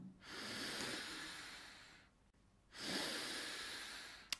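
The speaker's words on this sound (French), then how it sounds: "Vas-y, inspire un bon coup." A long, deep inhalation that starts near and strong, dies away into a short pause, then comes back as a second loud intake of breath. A small click lands right at the end.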